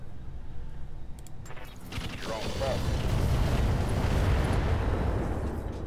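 Mech weapons firing in the Roguetech battle game: a dense, rumbling barrage of booms and bursts swelling in the second half, loud and sustained, with a voice talking over it.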